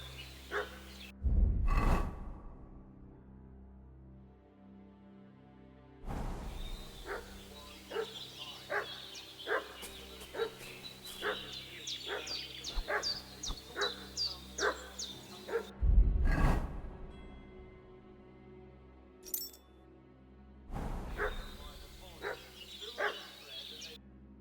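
A dog in Kingdom Come: Deliverance 2 barking in repeated bursts at mid distance, with a steady run of sharp barks in the middle stretch and louder thumps and game sounds at intervals.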